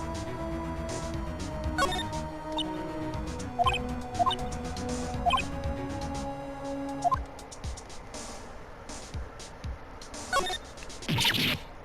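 Polly the parrot squawking in the Phoenix Wright: Ace Attorney video game, a series of short, sharp, chirpy squawks scattered over a tonal game music bed at moderate loudness.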